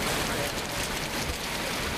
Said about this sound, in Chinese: 台灣仔大雨更大，